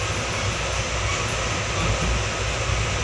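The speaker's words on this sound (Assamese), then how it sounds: "ট্ৰেইন পাই গ'লোঁ গতিকে ট্ৰেইনত গৈ আছোঁ" A dense, steady rumble and roar fills the inside of a nearly empty moving train carriage at night in Assam, loud and continuous with rhythmic rattling underneath and no speech.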